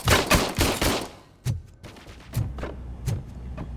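Gunfire at a shooting range in the video game Robocop Rogue City: a rapid burst of loud shots followed by a few spaced single reports, each fading with a short echo.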